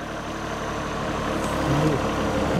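A small tractor engine runs steadily and loudly outdoors in damp conditions, a continuous low rumble with no talking over it.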